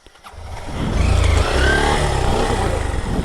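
A dirt bike on a mountain enduro trail ride starts up after a brief quiet moment, then its engine revs and holds a loud, steady, buzzy roar close by.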